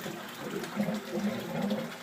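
Water draining off a grow bed in a bio shelter fed by an air-lift pump, a continuous gurgling and trickling that flushes in and out in uneven surges.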